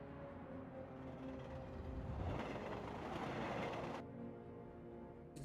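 A train rushes past in the GameCube shooter Die Hard Vendetta, a broad rumbling roar that swells over a few seconds and then cuts off abruptly, loud and alone with no talking.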